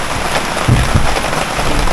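Steady, heavy rain pours down outdoors beside a wide fishing lake, a dense, loud hiss of drops with a couple of low thumps.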